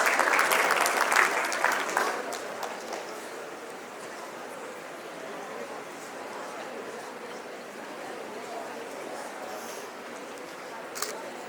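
Audience applause at a national debate and excellence awards ceremony, loudest in the opening seconds and then settling into a steady, softer patter of clapping across a large hall.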